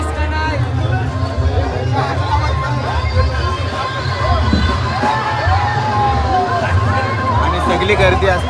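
A loud, dense crowd fills a village festival procession with traditional costumed figures, with many overlapping voices and a steady low rumble of music or engines. One person talks over the babble nearby.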